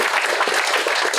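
A brief, dense wash of audience applause at a political talk on electoral reform, steady and fairly loud throughout, with no speech over it.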